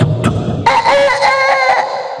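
A person's voice mimics a rooster crowing with a loud, close, drawn-out cock-a-doodle-doo, opening with a short sharp note and then a sustained wavering call.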